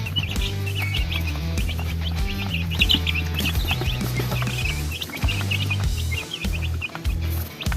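Newly hatched heritage chicken chicks peep in quick, high, overlapping chirps, with softer clucking underneath. The sound is steady and close throughout.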